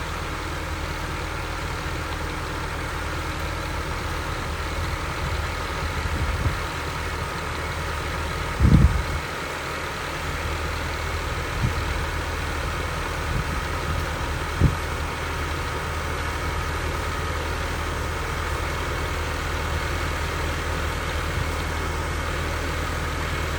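A tractor engine runs steadily with a sprayer attached while spraying a potato field, giving a constant low droning rumble for over twenty seconds, broken by a few faint knocks and no talk.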